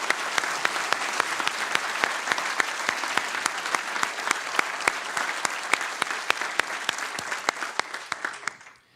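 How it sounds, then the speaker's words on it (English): Sustained applause from an audience at an honorary degree ceremony for President Benigno Aquino III, many hands clapping in a dense, even wash with occasional sharp standout claps, fading at the end. "How about a round of applause for all of the above?"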